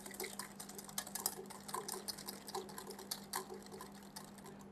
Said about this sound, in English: I'm going to add half of the sugar and mix it together using a wire whisk